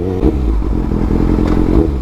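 Kawasaki Ninja ZX-6R 636cc motorcycle underway, a loud, close, continuous engine drone with a rough pulsing throb and slight rises in pitch.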